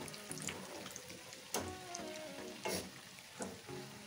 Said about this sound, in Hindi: और अब मैं इन्हें एक से डेढ़ मिनट तक और इन्हें फ्राई करूँगी